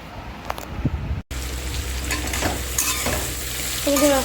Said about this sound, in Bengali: এখানে পটল কাঁকড় উচ্ছে কুমড়ো সব মিশিয়ে পেঁয়াজ দিয়ে একটু ভাজা ভাজা করছি